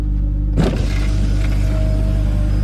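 Power window on a BMW E46 330i motoring up after a switch replacement: a sharp click, then a close, steady electric whir of the glass rising over a low engine-idle rumble.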